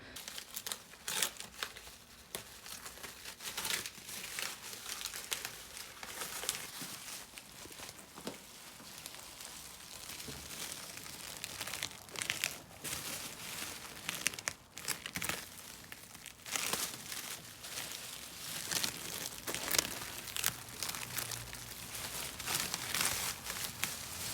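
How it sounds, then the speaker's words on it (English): Protective plastic wrap and tape are peeled off the bumper of a 2020 Volkswagen Tiguan, a steady, close crinkling and crackling with sharper tearing bursts throughout, no talking. "We're going to be unwrapping this. We're going to do half and half because it's fun to untape stuff."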